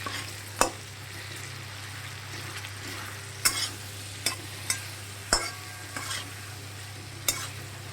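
Spice paste with softened tomato frying in a pan for a fish curry: a steady close sizzle with sharp clacks of a spoon stirring and scraping at irregular intervals, no talk.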